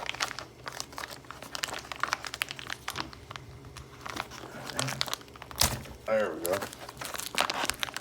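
Thick plastic packaging shipped from China, wrapped around brass beadlock clamp rings for an SCX24 crawler, crinkles and tears in bursts near the mic, with a person talking over it.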